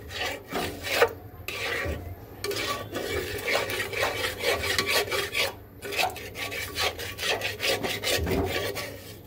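Whole chicken being mixed by hand with tomato sauce and spices for an Eid chicken roast, giving steady wet rubbing and rasping strokes in a continuous rhythm, close and moderately loud, with no talking.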